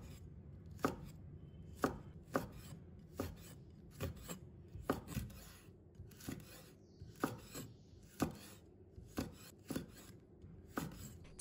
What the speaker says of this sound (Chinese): 再用斜刀切成片